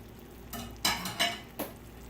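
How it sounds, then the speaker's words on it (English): Clams and their juices are stirred in a pan for white clam sauce, producing three or four quick wet scraping swishes over a quiet background, close by and without talk. "And we stir that up."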